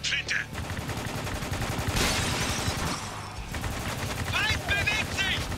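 In the video game Spec Ops: The Line, dense gunfire with rapid automatic bursts and heavier shotgun-like blasts rattles on without a break while voices shout over the shooting.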